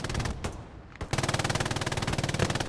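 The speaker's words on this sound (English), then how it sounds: "Hawkman just ripping him with the MG42." An MG42 machine gun fires in the game Hell Let Loose, a couple of sharp single shots followed by a long, rapid, evenly spaced burst that runs loud and close to the end.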